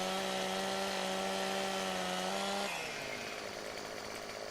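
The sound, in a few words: chainsaw trimming a tree in video game Farming Simulator 2015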